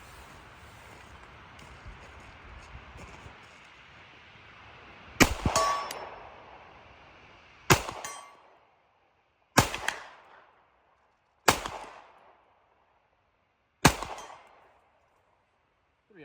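Five pistol shots from a Smith & Wesson M&P 2.0 ringing off a reduced C-zone steel target at 60 yards, each a sharp distant clang with a short ringing tail, spaced about two seconds apart after a quiet outdoor lead-in.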